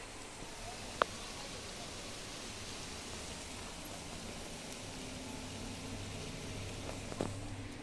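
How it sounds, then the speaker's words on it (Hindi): Heavy rain pours down in a steady, dense hiss, with a brief sharp knock near the start and a faint clatter toward the end. "बारिश अभी तेज़ हो रही है"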